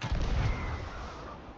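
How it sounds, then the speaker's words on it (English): A cannon firing in a naval battle video game, a single deep booming shot followed by a rumbling decay that fades over a second or so, with no talk. "Take that cannon, James. Take that cannon"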